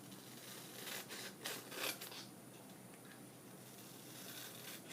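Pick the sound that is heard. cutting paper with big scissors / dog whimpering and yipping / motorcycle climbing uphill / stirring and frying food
cutting paper with big scissors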